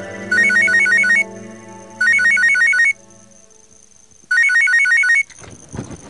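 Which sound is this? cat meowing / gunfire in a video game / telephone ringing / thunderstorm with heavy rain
telephone ringing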